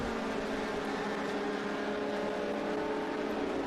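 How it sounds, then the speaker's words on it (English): Trans Am race cars racing at Circuit of the Americas, a steady, fairly faint engine drone heard from a distance with no break. "That's John McAleer overtaking Polygato there"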